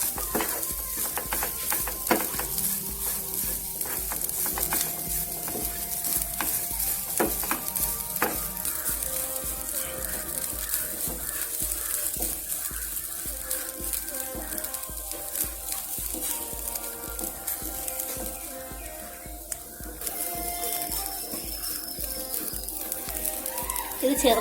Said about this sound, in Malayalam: ഇത് ചെറുതായിട്ടൊന്ന് വറുത്ത് വരട്ടെ.